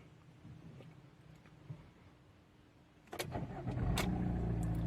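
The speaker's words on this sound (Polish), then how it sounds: "Spróbujemy ponownie uruchomić pojazd." An Opel Insignia engine cranks with a few sharp clicks and then catches after its anti-theft system is disarmed, settling into a steady low idle nearby.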